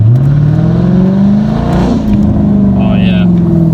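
A 2010 Dodge Challenger R/T in manual mode with traction control off accelerates hard, its engine revving up in a loud, steady rising drone close by, with the car's voices faintly underneath.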